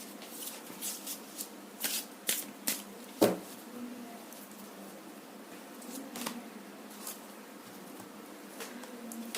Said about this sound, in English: let me pull out one last angel card before we close the reading